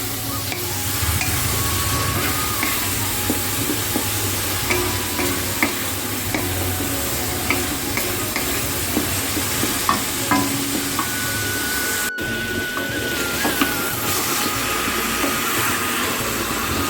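Meat spice masala is fried and stirred in a pan, with a steady close sizzle and frequent scraping strokes of a spatula running throughout, loud and continuous, with no talking.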